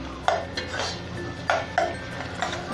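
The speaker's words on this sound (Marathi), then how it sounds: "कांदा टॅमॅटो थोडा वेळ परतून घेऊया जरा, टॅमॅटो नरम होईपर्यंत" A spoon stirs onion and tomato as they sauté in a pan, giving several sharp metallic scrapes and clinks against the pan at irregular intervals over a low background sizzle.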